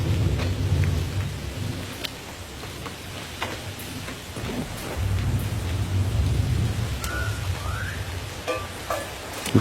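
A thunderstorm with steady rain pattering on surfaces, while low rolling thunder rumbles in long swells and a few sharp drips and clicks stand out nearby.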